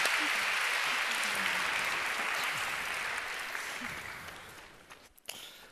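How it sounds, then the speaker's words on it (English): Warm, steady applause from a conference audience for a women-in-tech panel, a continuous wash of clapping that slowly tapers off toward the end. "Please, an applause for this splendid,"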